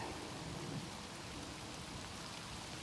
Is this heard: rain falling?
yes